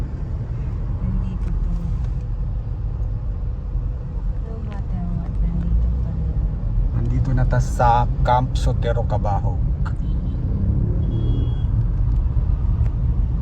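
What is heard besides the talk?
road traffic heard from inside a car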